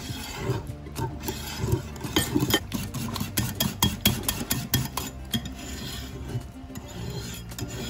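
A whisk beats boiled cream into chocolate for a ganache in a bowl, a steady rapid scraping and clinking that runs continuously and loud, with no talk.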